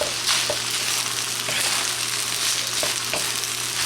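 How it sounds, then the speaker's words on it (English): An egg for fried rice sizzles steadily in a hot pan, a loud close hiss that runs without a break, with a few faint stirring taps on top. "Next, we add our egg."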